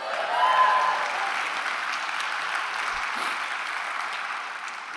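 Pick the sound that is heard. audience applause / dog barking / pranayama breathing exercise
audience applause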